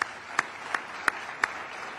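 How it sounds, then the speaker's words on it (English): A handful of sharp, evenly spaced claps, about five in two seconds, ring out over a steady hiss of crowd noise at a military drill sergeant competition ceremony. There is no talking. "Give him a big round of applause for that."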